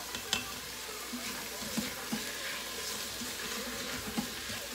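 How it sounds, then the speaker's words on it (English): Onions and green pepper sauteing in a pan on the stove, giving a steady, close sizzle with occasional stirring clicks and light clatter throughout. "now that this has been sauteing for a good five minutes, let me show you what it looks like in there"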